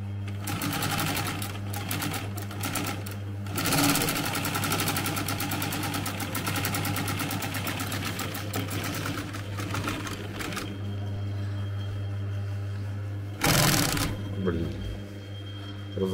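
A K-Chance 4400 sewing machine stitches in a fast, steady mechanical clatter over a low hum, pausing briefly and then running again, with people talking nearby.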